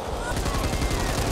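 Rapid video-game gunfire from Back 4 Blood rattles in a dense burst through a short stretch, loud and crowded, with no clear speech over it.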